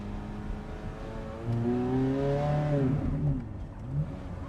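A 2008 Ferrari F430 Spider engine revs up with a rising, throaty note, holds briefly, then drops back, close and loud over a steady idle.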